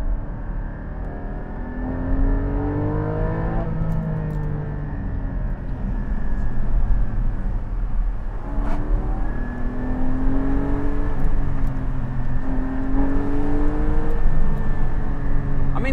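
A Porsche 718 Cayman GT4 engine revs and pulls hard in second gear, its pitch climbing and dropping in sweeps, loud and close with steady road noise underneath.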